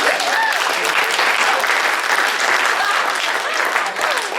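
Audience applause at a chamber of commerce recognition banquet after a hypnotist's show, a dense, steady wash of clapping filling the room for several seconds, with scattered cheers and voices mixed in.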